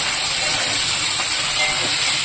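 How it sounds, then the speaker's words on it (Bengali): Loud, steady hissing sizzle of hilsa fish frying in oil, constant and close, with no voices. "তো মাছটা ভাজার জন্য আমি বসিয়ে দিয়েছি।"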